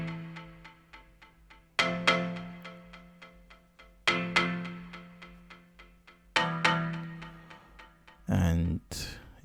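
A marimba-like synth made in FL Studio for an Afrobeat plays a bright, plucked melody of quick repeated notes, with stronger accented notes about every two seconds and a brief sustained tone near the end.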